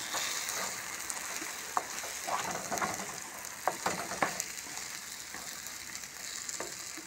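Eggs for huevo a la mexicana fry in a pan with a soft, continuous sizzle, broken by several sharp clicks and scrapes as they are stirred, fairly quiet and with no talk.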